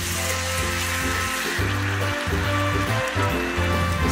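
Tamarind juice poured into a hot pan of fried shallots and sugar, giving a steady loud sizzle and liquid stream that runs continuously throughout, with a low droning hum underneath and no voices.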